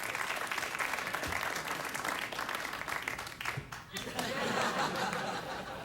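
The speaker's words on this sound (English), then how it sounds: "You went to clap there, didn't you?" A crowd applauds steadily with a few chuckles mixed in, the clapping dipping briefly before swelling again to full strength.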